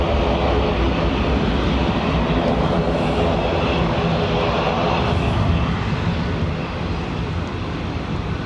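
An ATR turboprop aircraft at Dublin Airport gives off a loud, continuous low droning rumble, holding steady throughout with no voices over it.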